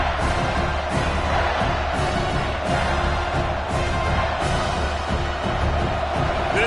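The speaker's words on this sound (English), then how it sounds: "This crowd knows they have to bring it in big moments, and one of those has arrived." College football stadium crowd at an Auburn game during a big third-down moment, a loud continuous roar of many voices with swelling surges, dense and distant-sounding throughout.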